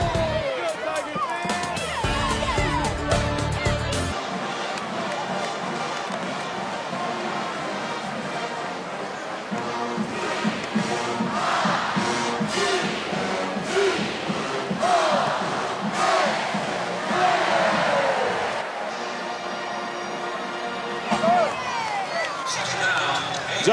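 Stadium crowd at Kroger Field in Lexington during a night college football game: a roaring, cheering mass of voices that swells and surges throughout, with loud whoops and yells rising over the din.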